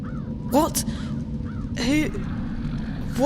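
A crow in the video game Dreamfall: The Longest Journey gives several loud, close, harsh caws in short bursts, spaced about a second apart.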